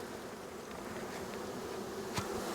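Honeybees buzz in a steady, dense drone during a hive inspection, with the swarm heard close and continuous and a few faint handling knocks near the end.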